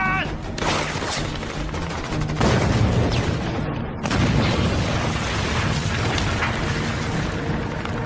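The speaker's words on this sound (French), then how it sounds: "Grenade!" A grenade blast in a French action film: loud, sustained rumbling booms roll through the scene, with a fresh heavy surge partway through and debris-like crackle layered over the din.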